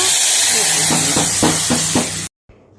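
A loud hissing sizzle as hot tempering with curry leaves hits sambar, with a few soft stirring knocks, then it cuts off abruptly.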